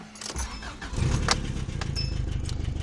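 A 1986 Subaru GL cranks briefly after a jangle of keys, then catches and settles into a close, steady idle with a rhythmic pulsing rumble.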